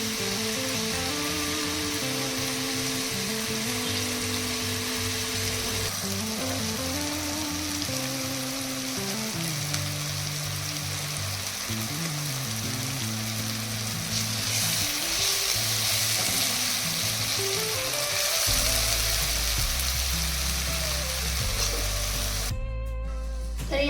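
Onion and tomato fry in oil in a pan for a dry toor dal dish, a steady close sizzle under repeated stirring and scraping, with a louder burst of crackling toward the end.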